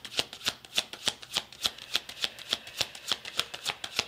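A tarot card deck is shuffled close up in a quick, regular run of about fifteen crisp riffling snaps, each a short papery burst, with no talking.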